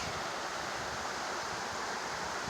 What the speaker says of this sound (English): That's Agnes Creek.